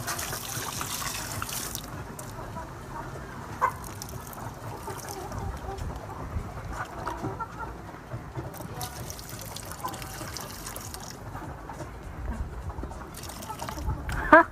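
Water poured from a bucket trickles and splashes steadily over poultry waste set out for maggot farming, a continuous outdoor wash of liquid with a few small knocks and a person talking over it.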